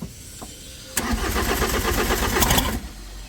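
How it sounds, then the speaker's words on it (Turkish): A car's starter cranks briefly before the engine catches and runs rough and loud for about two seconds, then settles lower; close by, no talk over it, in a mechanic's setting during an engine repair. "Önce bir şöyle bir marşa basalım da bir arabayı bir görün"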